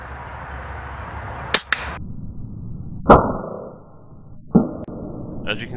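Two sharp cracks from a .22 caliber HW100 air rifle fired at a squirrel at a garden feeder about 27 yards away, the shots a few seconds apart, each followed by a short thud, with no talk.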